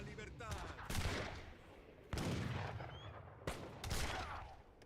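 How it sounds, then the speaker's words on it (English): Gunfire in the Age of Empires video game: a few loud, sharp volleys roughly a second apart, each trailing off into rumble, over a busy game soundscape. "Stop shooting at us."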